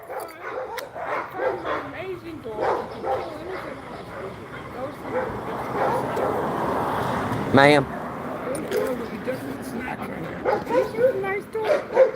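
Small dogs yap and bark outdoors in repeated short bursts, mixed in with people talking throughout; one sharper whimper or yip stands out midway.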